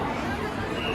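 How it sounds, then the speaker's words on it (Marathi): A huge crowd of pilgrims murmurs outside a temple, a dense, steady babble of many overlapping voices close around, with no single voice standing out. "भयंकर अशी गर्दी इथं."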